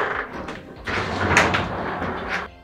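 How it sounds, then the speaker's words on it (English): A sectional garage door, released from its opener, is lifted by hand, giving a continuous rumbling roll with rattling and scraping of panels and tracks, fairly loud and close throughout. "Pull this and the door is free, so we can lift it."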